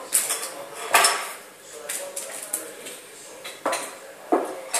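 A spoon mixing salt, butter and other ingredients in a bowl to make modeling clay, with irregular close clinks and scrapes against the bowl and quieter stirring between them.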